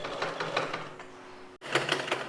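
A sewing machine stitches together the pieces of a gathering pant, its needle running in a steady, close mechanical patter that halts for an instant and then picks up again at the same pace.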